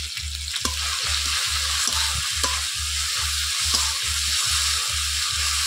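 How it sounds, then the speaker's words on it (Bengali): Ginger, garlic and tomato paste fry in a pan with a loud, close sizzle, while a spoon scrapes and stirs in a regular rhythm of repeated strokes. "আদা রসুনটা হালকা ভাজা করে দিচ্ছি টমেটো বাটা।"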